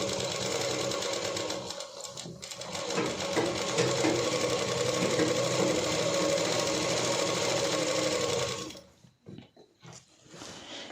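Sewing machine running steadily for about eight seconds while stitching lehenga panels for a Rajputi suit, a loud close continuous whir that stops near the end and leaves scattered handling noises.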